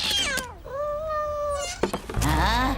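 In a French animated cartoon, a cat lets out a long, drawn-out meow, clear and close, followed by a thump and voices talking.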